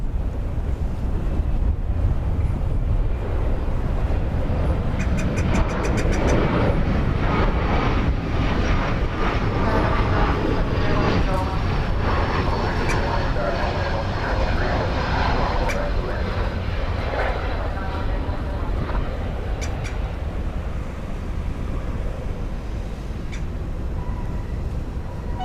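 A fixed-wing airplane roars steadily at DFW airport, loud and sustained throughout, with wind buffeting the microphone.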